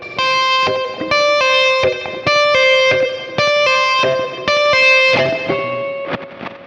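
Distorted electric guitar notes tapped out in a quick repeating pattern with pull-offs, each phrase ringing briefly before the next burst, played alone.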